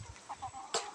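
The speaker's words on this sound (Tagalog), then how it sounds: "Sa ngayon po ay ipipicture po natin ang ating mga manok." Native chickens on a farm give soft, brief clucks close by, ending with one sharper squawk, all fairly faint over quiet background.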